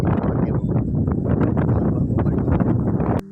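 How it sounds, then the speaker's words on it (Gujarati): Strong wind sweeps across an open rooftop terrace in the evening, buffeting the microphone with a continuous low, rumbling roar that stays loud throughout. "પવન છે એટલે ફૂલમ ફૂલ પવન છે અત્યારે"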